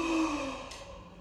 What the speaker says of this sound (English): Did he just yawn after he saw me yawning?